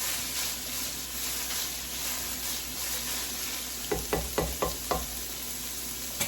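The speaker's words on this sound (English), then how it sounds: "I went ahead and added my green peppers, my red peppers, and my onions. So I'm going to go ahead and give that a good mix" Ground meat with green and red peppers and onions browns in a pan, giving a steady low sizzle. Toward the end a few quick scraping stirs land close by as the mixture is turned. No one speaks.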